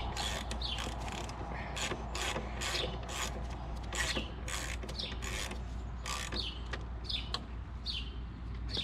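Metallic clicking and creaking as a bolt is worked out of the rear suspension of a TLR HyperPro RC car, a steady run of small ratcheting taps and rubbing close up, with no talking.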